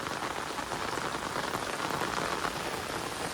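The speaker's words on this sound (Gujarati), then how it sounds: "પાણી વરસાદ ભાઈ બંધ રહેવાનું નામ જ નથી રહેતો" Heavy rain falls steadily near the Malan river in Gujarat, a dense, continuous hiss of drops hitting surfaces that stays loud and even throughout, with no voices.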